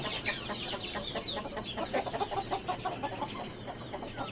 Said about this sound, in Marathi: ओरिजिनल गावठ्या अशा कोंबड्या आहेत भरपूर अशा कोंबड्या आहेत